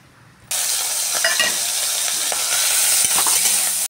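Prawns sizzle in hot oil in a kadai. After a brief quiet start, a loud, steady frying hiss fills the rest of the clip, with a few small clinks and stirring knocks mixed in.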